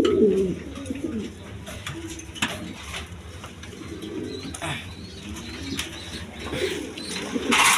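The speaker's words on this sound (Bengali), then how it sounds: "এরকম শার্টিং আছে আর বিভিন্ন রকম কবুতর আছে" Pigeons of assorted breeds in a loft, some sitting on eggs and chicks, coo faintly and keep up a low murmur, with brief wing flaps breaking in now and then against a steady background hum.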